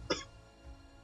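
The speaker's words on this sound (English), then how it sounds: "Pardon me, I also have the cough." A single short cough from a man near the microphone, one sharp burst near the start and then quiet room tone.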